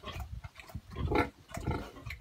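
A sow in heat grunts and snorts close by, a string of rough, uneven grunts of varying length with one louder, longer squeal-like grunt midway, no talk.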